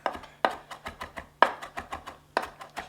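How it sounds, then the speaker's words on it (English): A knife chops fresh herb leaves on a cutting board for a stuffed mushroom recipe, giving a quick steady run of light, crisp taps with a few harder strokes mixed in. The taps are close and clear, with no voice over them. "Then we'll start giving it the good chop."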